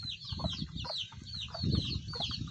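Young pet chickens clucking and chirping busily at feeding time, a dense chorus of close, continuous peeps and clucks.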